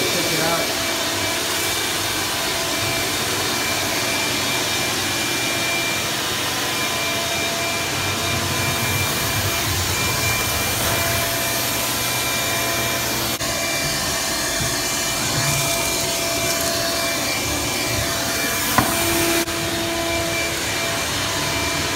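A cheap vacuum cleaner set to blow air roars loudly and continuously at close range, a harsh steady whine with slight shifts in tone throughout.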